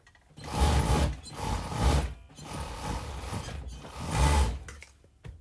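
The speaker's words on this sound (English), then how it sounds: "So now I'm going to proceed to sew the sides with my 4-thread overlock." A 4-thread overlock machine stitching the side seams of a tank top, making close mechanical whirring bursts that rise and fall in several runs with short pauses between.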